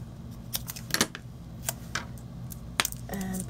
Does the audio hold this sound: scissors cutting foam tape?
yes